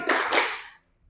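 Hands clap sharply at close range, in two quick bursts that come a fraction of a second apart and fade into a brief room tail.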